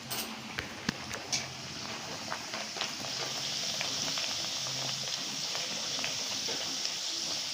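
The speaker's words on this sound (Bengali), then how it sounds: "তো চলো এখন ভাজবো এটা।" Nan puri frying in hot oil, a steady close hiss and sizzle that swells after a few early clicks and taps, continuous and moderately loud with no talking.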